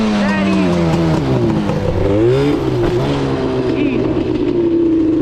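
A Yamaha Banshee ATV engine revs hard through a wheelie, its two-stroke whine climbing and falling in pitch up close and loud, while a voice speaks briefly over it.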